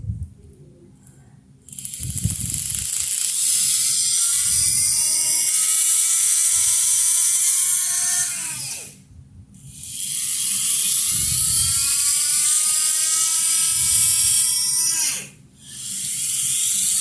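A small DIY DC motor fitted with a stronger magnet from a 555 motor spins up in two runs, each a high, whirring whine that climbs in pitch, holds steady, then winds down, with a short pause between.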